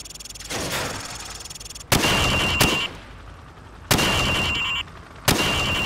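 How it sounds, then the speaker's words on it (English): Automatic gunfire bursts at targets, fired from the hip, in Call of Duty 4: Modern Warfare: long, loud rattling bursts, each cut off abruptly, with short pauses in between. "Shoot at the targets while firing from the hip."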